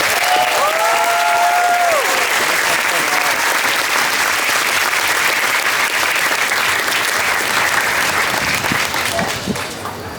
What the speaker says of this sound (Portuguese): Palmas para a Fernanda.